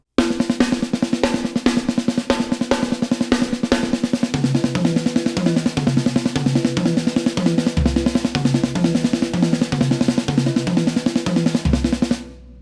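Drums and Meinl cymbals play a ten-note AB paradiddle combination in five, a rapid continuous run of strokes with recurring low tom accents and bright cymbal shimmer, close and alone.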